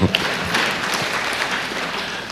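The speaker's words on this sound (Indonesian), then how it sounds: "Tepuk tanganlah untuk beliau." Audience applause at a national elderly day event in Indonesia, a dense steady patter of many hands clapping together for about two seconds, fairly loud and even throughout, with no talk over it.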